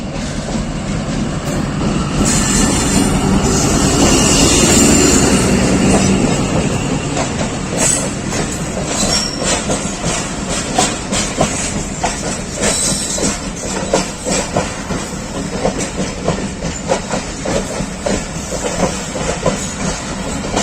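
Jaffar Express, running Peshawar to Quetta on Pakistan Railways, rolls through Lalamusa station with a loud, steady rumble and rhythmic clickety-clack of wagons, occasional faint wheel squeal and hiss, sustained throughout without speech.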